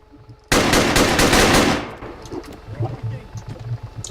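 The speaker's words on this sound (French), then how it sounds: "ça tire sévère, de mon Nico, j'entends" Gunfire aimed at police: a loud, close burst of rapid shots fires in a tight stream, then cuts off and leaves a fading echo and quieter background noise.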